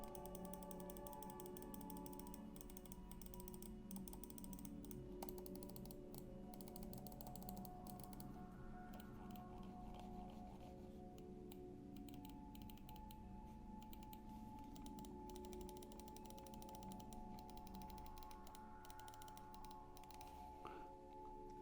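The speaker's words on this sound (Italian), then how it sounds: "Andiamo a sentire i tasti," Steady, rapid clicking of the mechanical keys of an Incott G23 Pro keyboard, close and continuous, with no voices over the typing.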